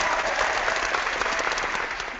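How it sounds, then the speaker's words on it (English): Steady applause from a crowd, continuous clapping at even loudness for about two seconds that fades slightly at the end. "I love that applause."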